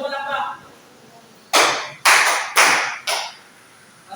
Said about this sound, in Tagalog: Bigyan siya natin ng palakpak.